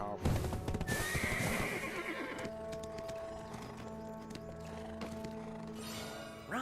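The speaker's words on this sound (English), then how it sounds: "Ride horses in the open field." A horse whinnies loudly in the video game Book of Agris, with clip-clopping hooves and ambient game sounds continuing under it.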